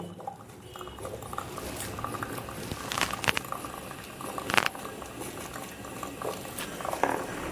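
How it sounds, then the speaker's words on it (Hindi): A Morphy Richards Europa 800-watt espresso machine runs with hot water dripping and gurgling, a soft, steady bubbling broken by a few sharp clicks and taps up close. "ये तो पानी गिरता ही जा रहा।"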